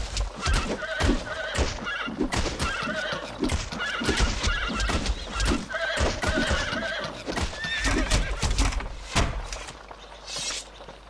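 Loud, close horse neighs and whinnies mix with clip-clopping hooves in a fantasy role-playing game.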